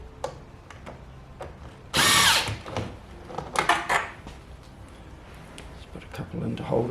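A power drill drives a screw into an overhead panel in one loud burst of about a second, then several shorter bursts follow amid quieter handling noise.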